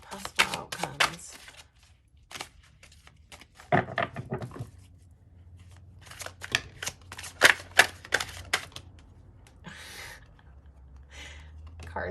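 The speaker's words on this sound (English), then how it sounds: "Just going to shuffle one more time" Tarot cards are shuffled in quick riffling bursts, with scattered soft snaps and taps between pauses, close and fairly quiet.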